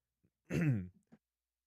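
A single short, rough throat clearing, close and fairly loud, followed by a couple of faint small throat sounds.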